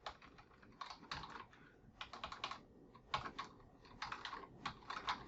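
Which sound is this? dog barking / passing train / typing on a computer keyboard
typing on a computer keyboard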